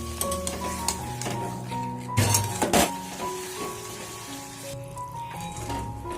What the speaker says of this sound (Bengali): এগুলো দিয়ে ভালোভাবে নাড়াচাড়া করে নেবো